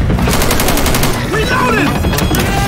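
Rapid gunfire in Left 4 Dead 2, loud bursts of shots repeating densely across the short stretch, with voices mixed underneath.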